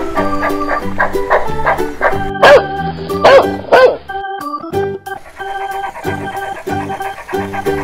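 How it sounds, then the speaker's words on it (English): A few sharp dog barks ring out in a quick cluster over bouncy background music. "Dog."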